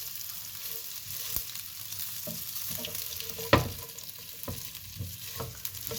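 Leftover rice is stirred together with muthia ingredients in a bowl, a soft continuous mixing and scraping with a few light knocks, fairly quiet, no talking.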